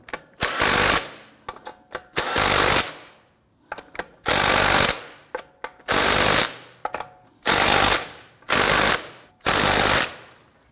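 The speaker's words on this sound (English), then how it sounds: "Let's torque down our lug nuts to 103 foot-pounds." An impact wrench runs lug nuts onto a Volvo S60 front wheel in loud, close rattling bursts of one to two seconds each, about six of them with short pauses between.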